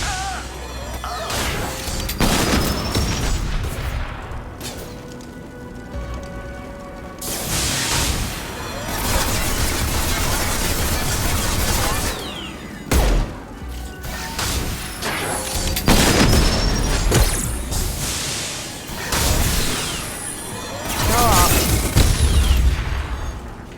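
Rocket blasts and crashing impacts from Mass Effect 2 combat repeat across the span, loud booms and smashes layered with game noise and occasional brief voices.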